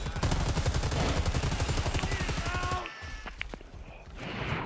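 Rapid automatic gunfire in a video game, a dense, loud, steady burst of shots for nearly three seconds that cuts off, followed by a few scattered sharper reports over background ambience.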